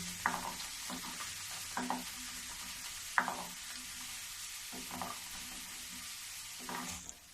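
Namkeen frying in a pan and being stirred, a steady hiss of sizzling oil broken by several sharp scrapes and clinks of the spoon at irregular intervals, close and fairly loud, no voices.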